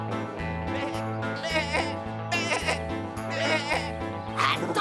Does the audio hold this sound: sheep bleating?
yes